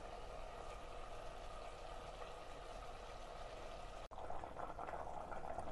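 Water being poured into a cooking pot holding carrots and potatoes while making a simple vegetable pulao, a steady continuous rushing pour at close range with a brief break near the end, no talking.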